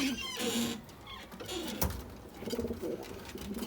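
A pigeon coos in a steady, close run of soft throaty calls over a busy rustling background, with a sharp knock partway through.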